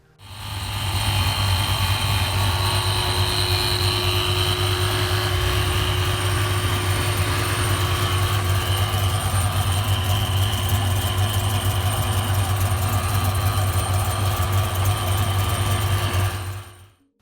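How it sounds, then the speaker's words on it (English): A running engine with a loud, sustained ProCharger supercharger whine, a steady high tone over a deep drone, constant and close. "the ProCharger is super, super loud"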